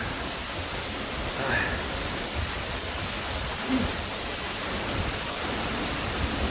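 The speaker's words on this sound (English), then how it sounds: "The waves on the beach, they're going over the sandbar, and man, is it super raining here." Heavy rain pouring down while beach waves break over a sandbar in Iloilo during a storm, a dense, steady roaring hiss with faint surges, heard alone.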